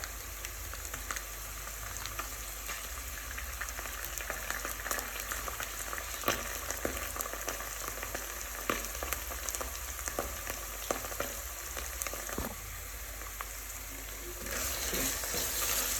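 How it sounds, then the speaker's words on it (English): Tomato paste sizzles and fries in a pan, a steady dense crackle with occasional sharper pops and stirring scrapes, continuous and close throughout with no speech. "Why am I frying the tomato paste first before the mixture?"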